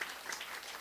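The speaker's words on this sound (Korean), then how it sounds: "박수 한번 크게 해서" Audience applause for a reading at a lecture on independence activist Yun Bong-gil, a brief burst of steady clapping from a room of listeners, moderately loud and sustained without pause.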